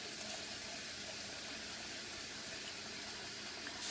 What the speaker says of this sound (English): Okay, and we'll pour in the cold water to cool it down.